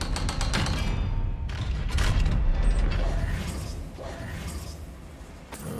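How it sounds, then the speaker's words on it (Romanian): A small door creaks and thumps open in the Hogwarts Legacy video game, with mechanical clunks and rattles over a loud, busy game soundscape for several seconds. "Ușița, deschide-te."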